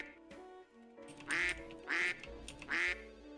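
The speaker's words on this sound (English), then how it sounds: "Wait, I can quack?" Three loud, bright duck quacks from the Duck Detective: The Secret Salami game, evenly spaced about half a second apart, played alone with no talking.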